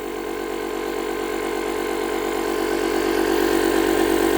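A compressor-style air pump inflating a large inflatable drones continuously with a steady mechanical hum and rhythmic pulsing, growing slightly louder over time, with no talking.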